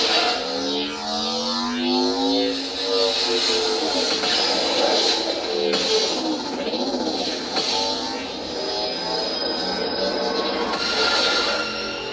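A lightsaber sound font plays a long preon ignition effect, with sweeping, warbling electronic tones that rise and fall over a constant loud hum for the whole stretch.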